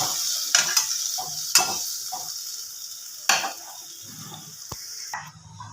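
Cauliflower roast curry in a pan, with the water used to rinse the blender bowl added, bubbling on the stove; a steady sizzling simmer sits under repeated scraping stirs and light clinks of a spoon against the pan, no talking.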